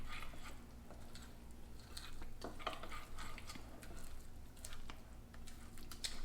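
Buttermilk waffle batter being stirred in a bowl, a steady soft scraping and sloshing with light clicks of the utensil against the bowl, fairly quiet over a constant low hum.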